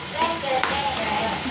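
Spiced masala for a Maharashtrian matki (moth bean) bhaji sizzles steadily in hot oil in a pan while being stirred, with a continuous frying hiss and a couple of brief scraping stir sounds.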